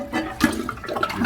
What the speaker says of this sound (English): Now, next thing is to drain all the water from the tank.